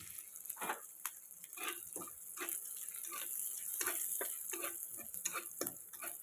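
Dried vegetables hit hot oil in a wok, setting off a steady crackling sizzle with bursts of popping through the middle of the fry. The sound comes from close by and is not very loud, with no talking over it.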